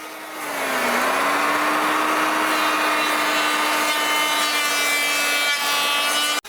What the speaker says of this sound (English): Then I flip the pieces and clear off the excess wood. Most is removed with the planer.